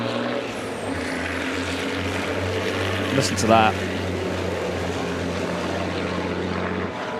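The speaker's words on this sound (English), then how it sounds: "13 litres, most of these engines, with great big whopping turbochargers on them that make a fantastic whistle." Racing trucks with 13-litre turbocharged engines at a European Truck Racing Championship qualifying session at Le Mans give a sustained, droning roar with a brief rising turbo whistle midway, while a commentator talks over it.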